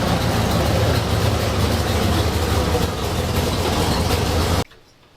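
A 1973 Ford Ranchero with a 351 Cleveland V8 pulls in, its loud, steady engine roar filling the recording before cutting off abruptly near the end.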